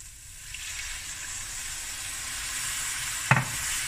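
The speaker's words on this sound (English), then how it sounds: "I'm going to add a bit of water" A curry pan holding honey and black pepper, later destined for prawns and coconut cream, sizzles steadily and close up, with a brief sharp hissing burst near the end as a little water hits the hot pan.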